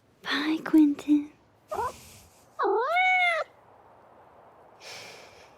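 Cat meowing in the video game Life is Strange: Double Exposure, several close, clear meows in quick succession followed by a longer drawn-out mew, with quiet gaps and soft breathy sounds between.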